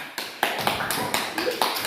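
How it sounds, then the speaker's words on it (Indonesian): A small group of schoolchildren claps in a classroom, a series of sharp, fairly even claps in a quick rhythm. Talk runs underneath. "Ya, tepuk tangan."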